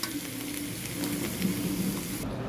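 Snake gourd fried with egg sizzles steadily in a pan, a close, continuous crackling hiss with faint stirring, and no talking over it.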